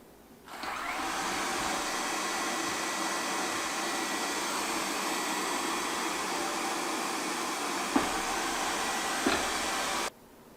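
An OKP K5 Pro robot vacuum cleaner runs under manual control, producing a steady, loud broadband whooshing hum that starts abruptly, holds for about ten seconds with a couple of faint knocks, then cuts off.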